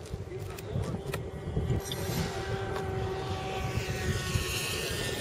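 FT Viggen foam model airplane on its maiden flight, a steady electric motor drone with faint whine running throughout at moderate distance, under light outdoor wind noise and occasional bumps.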